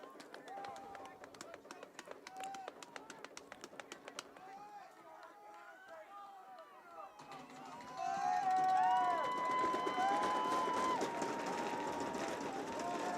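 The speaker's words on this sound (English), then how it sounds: "That is the Dover-Sherborn crowd off to our left." Dover-Sherborn high school varsity football crowd cheering off to one side during a game against Medfield, a broad swelling roar that builds loud in the second half, with whistles, chirping, and nearby talk layered over it.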